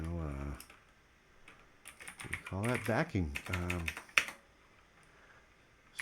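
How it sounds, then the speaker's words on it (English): Clicky computer keyboard typing while working in Cakewalk recording software, with bursts of keystrokes between and under a man's speech, fairly close. "my typing is terrible today"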